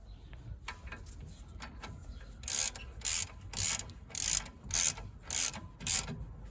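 A ratchet clicks in quick bursts as brake caliper bolts on a 2014 Kia Sportage 2.0 CRDI are run in, about seven sharp regular pulses following softer fiddling, close and quiet.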